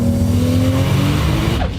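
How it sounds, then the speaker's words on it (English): A turbocharged Acura RSX under way sends a loud, close engine drone with steady low harmonics that shift slightly in pitch over about two seconds, with no voices. "being in this Acura RSX with the big turbo on it and just driving it"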